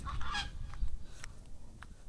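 Chickens being fed on a farm give a few short, honking clucks spaced apart, fairly close, over a low steady outdoor rumble.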